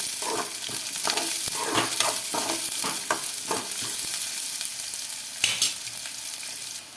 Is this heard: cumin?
yes